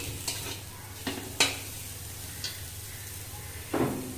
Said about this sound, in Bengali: আলুটা একটু তেল দিয়ে ভেজে নিচ্ছি